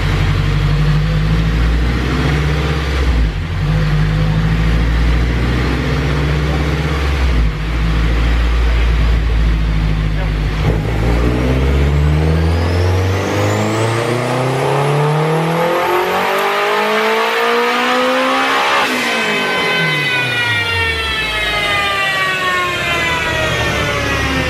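A turbocharged K20 engine in a Honda Civic EK hatch with new pistons and rods, running on wastegate boost on a dyno, idles then climbs in one long, loud rising rev sweep to the limiter before dropping away.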